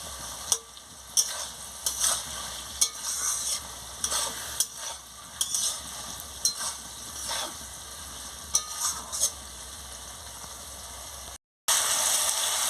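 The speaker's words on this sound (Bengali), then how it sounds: "দেখুন বন্ধুরা, ভালো করে একটু কষিয়ে নিচ্ছি।" Ridge gourd, snake gourd and potato curry sautéing in a pan, a steady sizzle with repeated sharp clinks and scrapes of a spatula stirring at an irregular rhythm, close and fairly loud, with a brief gap near the end.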